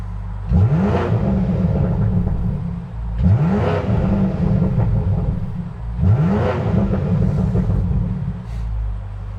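A BMW M5 G99 with an Akrapovic titanium exhaust, flaps open, revs hard three times in even succession, each loud rise falling back to a deep burbling idle, with no talking over it.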